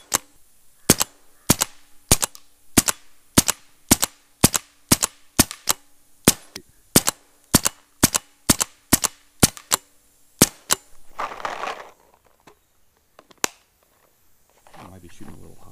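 Autococker paintball marker firing about twenty sharp, loud, evenly spaced shots in rapid succession, followed by a brief pause, scattered rustling and one final shot.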